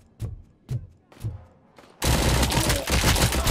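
Gunfire in the video game Robocop: Rogue City: three spaced, punchy single shots, then a dense, loud burst of rapid fire filling the final second and a half.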